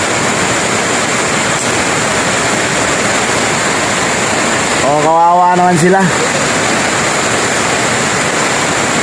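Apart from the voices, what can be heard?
heavy rain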